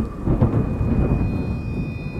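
A thunderstorm with heavy rain in a film trailer, a loud continuous rumble of thunder under steady downpour, with no voices.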